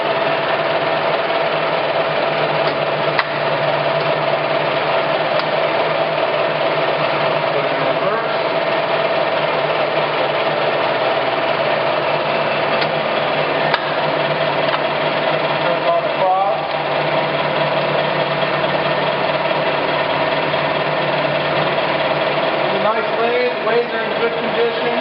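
Clausing Colchester 17 x 80 engine lathe, model 1780, running with threading engaged, a steady loud mechanical whir and gear drone that continues without pause, with faint talk in the background.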